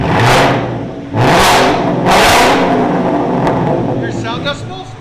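A 2024 Ford Mustang GT with a 5.0L V8, Corsa Double Helix exhaust and muffler delete revs hard three times in quick succession, loud and close, then settles to a rumbling idle with a few faint voices near the end.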